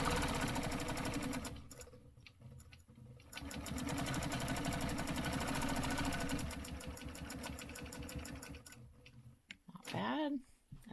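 A quilting sewing machine runs fast, even stitches along a stencil-marked line, pausing briefly around two and nine seconds, close and loud, with light handling noise at the end.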